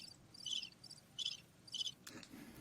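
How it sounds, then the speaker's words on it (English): Crickets chirp in three short, evenly spaced bursts, bright and fairly close, over a quiet background, followed by a brief softer rustle at the end. "Were those crickets?"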